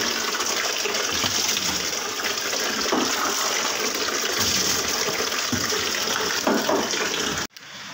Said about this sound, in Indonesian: karena tidak ada selang di sini, kita siram manual saja menggunakan tangan